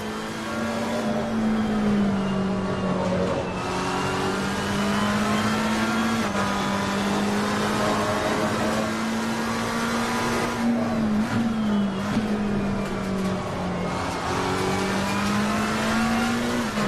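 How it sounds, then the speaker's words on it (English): A race car at Laguna Seca runs continuously and close by, its engine holding a steady, loud, buzzing note with only slight rises and dips as the driver eases off the throttle rather than flooring it. "You guys can probably hear that I'm actually giving it a bit less. I'm not just gunning it."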